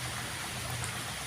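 Steady rain falls in an even, close hiss that holds at the same level throughout the short stretch, with no other sounds standing out.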